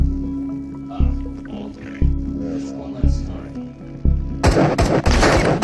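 Loud gunfire in the VR shooter Into The Radius: single shots at a regular pace of about one per second, then a dense rapid burst at the end, with a voice faintly present.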